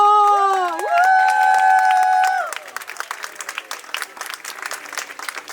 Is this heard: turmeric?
no